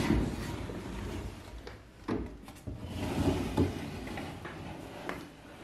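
A storage drawer in a printmaking studio slides open with a low rumbling scrape, alongside soft handling noises and rustling of papers in a quiet room.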